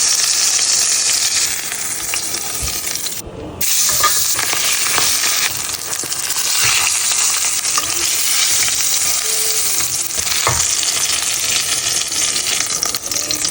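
Snapper fillets pan-searing in a frying pan, a loud, steady, crackling sizzle close up with scattered pops and a brief dip midway, no talking.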